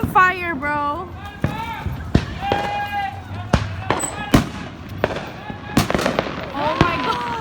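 Fourth of July fireworks crack and bang repeatedly at close range, sharp irregular pops scattered among excited voices and shouting as people react nearby.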